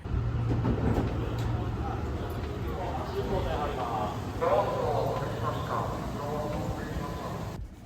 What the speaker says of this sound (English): It's about a 40-minute train